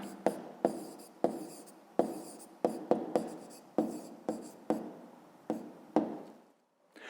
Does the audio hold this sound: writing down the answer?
yes